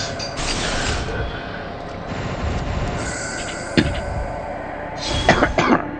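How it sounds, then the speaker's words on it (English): A person coughs a few times, with a short cough midway and a cluster of harsher coughs near the end, close to the microphone over a background of steady noise. "This cough, it really sucks."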